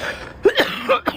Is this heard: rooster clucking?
no